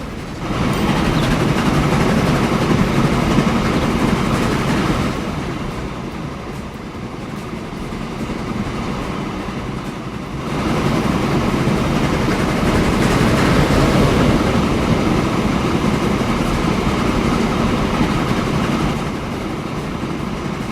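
A train in the European Sand Dream railway game rumbles past with a continuous loud rolling roar, swelling and easing in waves over about twenty seconds.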